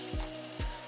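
Banana fritter batter dropped into hot oil in a pan, giving two quick sizzling bursts that settle into a steady close frying hiss.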